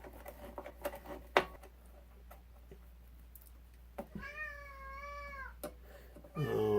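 A cat gives a single drawn-out meow, close and clear, in a room where a 1929 Edison radio is being restored, preceded by scattered faint taps and rustles and followed by a louder rustling bump.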